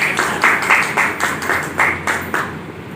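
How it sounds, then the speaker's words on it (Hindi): Rhythmic group clapping at a spiritual gathering, beating in a steady unison pulse of roughly three claps per second, loud and close with no talk over it. "हम सब तालियां बजाते हैं"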